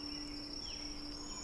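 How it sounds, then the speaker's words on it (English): Cicadas drone in the distance on a warm night with a light breeze, a faint, steady, unbroken high chirring with no voices. "The sound of cicadas in the distance and the warm air, with only a minor breeze"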